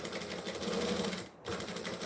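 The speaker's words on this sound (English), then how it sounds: "So we're just stitching very close to the edge." Sewing machine running steadily while stitching close to the edge of fabric, a continuous mechanical whir with a brief pause near the end before resuming, close and fairly loud, no voices.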